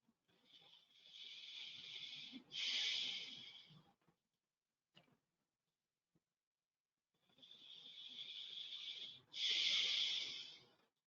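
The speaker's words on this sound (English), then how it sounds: "don't be afraid to make noise while you're breathing" Several people breathe noisily through a seated movement exercise with head lifts, two long hissing, wheezy breaths with a brief pause between, each ending in a stronger forceful exhale, close and clear.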